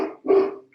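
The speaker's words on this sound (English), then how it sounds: "I'm so sorry about the dogs barking." Neighbourhood dogs bark outside, with a single sharp bark in the middle and faint yips around it, fairly close and heard without any talk.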